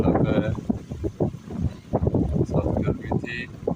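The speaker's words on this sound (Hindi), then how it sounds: "बहुत तेज़ हवा चल रही है, जैसे कि तूफान आया हुआ है।" Strong wind gusts rush and buffet the microphone outdoors in the Lahore area, with a person speaking over the roar in bursts.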